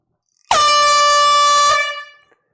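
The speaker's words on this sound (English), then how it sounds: "Here comes the air horn." A loud, sustained blast from an air horn at a live vinyl record sale auction rings out alone for just over a second, then cuts off with a brief fading tail.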